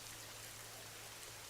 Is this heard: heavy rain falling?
yes